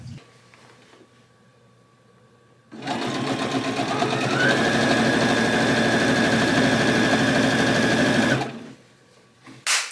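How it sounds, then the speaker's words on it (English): Home sewing machine stitching the elastic waistband onto a pair of shorts: a loud, steady mechanical whirring hum runs close up for about six seconds, with quieter handling sounds before and after. "I am in the middle of sewing the waistband on."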